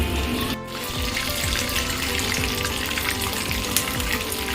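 Chilli chicken fries in hot oil in a pan, a loud, continuous close-up sizzle and crackle with occasional spatters, steady throughout with no voices.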